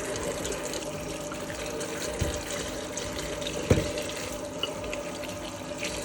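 Steady cold tap water running into a sink while strawberries are rinsed, continuous and close, with a couple of faint knocks.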